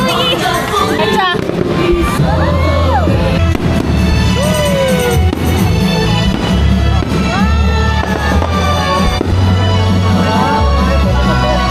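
Loud, continuous New Year fireworks crackling and popping with whistling rockets at Enchanted Kingdom, while a crowd cheers and chatters throughout.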